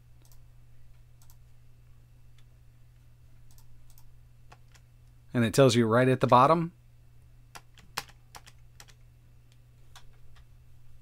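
Keys on a laptop computer keyboard click in sparse, light taps, running beside a steady electrical hum and a short burst of speech.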